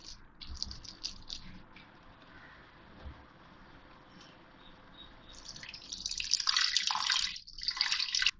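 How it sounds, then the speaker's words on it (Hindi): Water splashes into a pot of partly mashed whole black masoor dal, a faint clatter at first and then a louder gurgling pour that builds over the last few seconds. "और अब इसमें मैं पानी डालूंगी।"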